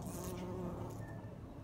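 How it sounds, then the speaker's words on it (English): Around marigold flowers in a UK garden, a bumblebee gives a low, steady buzz close by, fairly faint against outdoor background noise. "Hold on, let me get a shot at this bee."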